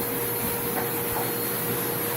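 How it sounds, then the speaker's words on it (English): A NaceCare backpack vacuum cleaner runs steadily while cleaning an elevator, giving a continuous, close, loud motor whine and airflow hiss with a faint tonal hum and no talking. "I'm a big fan of the backpack vacuum"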